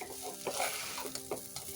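Ingredients for vegetarian matar pulao fry and get stirred in a pan, giving a steady bright sizzle broken by a few scraping strokes, close and continuous.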